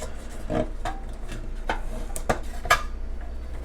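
A Stanley Base Camp cook set has its lid taken off, with a series of sharp metallic clanks and rattles as the nested pots knock together, close and loud with short pauses between hits.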